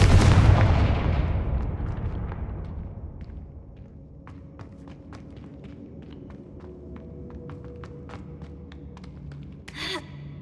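The Confringo fire-blast spell in Hogwarts Legacy, a loud booming blast that decays over a few seconds, followed by faint scattered clicks and a short burst near the end.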